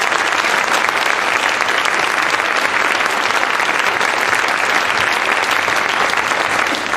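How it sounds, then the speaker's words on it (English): An audience at a Massachusetts child care task force panel gives a full round of applause. The clapping is loud, dense and unbroken throughout. "Can we get a round of applause for the panel?"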